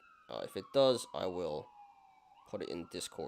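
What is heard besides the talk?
police sirens passing outside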